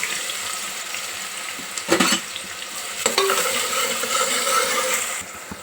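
Sliced onions hit hot spiced oil with whole spices for a mutton curry, a continuous sizzle and fry with a few stirring clatters, close and moderately loud, no voices.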